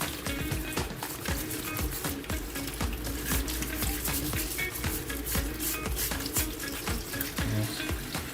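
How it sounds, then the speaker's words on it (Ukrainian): Crayfish rinsed under running tap water, a continuous splashing stream with small knocks and rattles of shells throughout, close and steady. "Промиваю."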